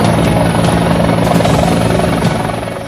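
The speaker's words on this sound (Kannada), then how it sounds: "ಇನ್ನು ಶಿವಮೊಗ್ಗದ ಆನವಟ್ಟಿಗೆ ಆಗಮಿಸಿದ ಕುಮಾರಸ್ವಾಮಿ ಅವರ ಹೆಲಿಕಾಪ್ಟರ್ ಅನ್ನ ಚುನಾವಣಾಧಿಕಾರಿಗಳು ತಪಾಸಣೆ ನಡೆಸಿದ್ರು." A helicopter carrying Chief Minister Kumaraswamy at Anavatti in Shivamogga, inspected by election officials, drones loudly and close with a steady rotor thrum and engine whine that fades slightly at the end.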